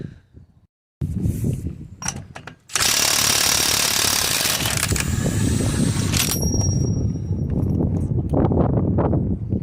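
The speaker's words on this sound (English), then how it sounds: "First, we're going to take off this drive shaft nut" Ratchet wrench undoing a drive shaft nut on a Citroen Relay van: a short burst of clicks, then loud, sustained rapid mechanical ratcheting and clattering close by, with no talk.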